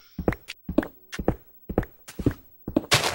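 Blocks being broken with a pickaxe in Minecraft (Xbox 360 Edition), including dirt, heard as a run of about eight close, dull thunking hits in uneven rhythm with no talk.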